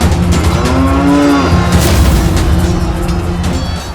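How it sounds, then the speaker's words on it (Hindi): Cattle being herded, with a clear drawn-out moo near the start over a rumbling, booming background, loud and close. "ये तो मवेशी को ले आ रहे हैं।"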